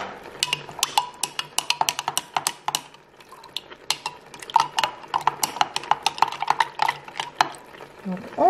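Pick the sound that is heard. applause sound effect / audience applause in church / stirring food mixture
stirring food mixture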